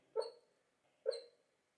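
A sleeping dog gives two short whimpering yips while dreaming, about a second apart, faint and close in an otherwise quiet room.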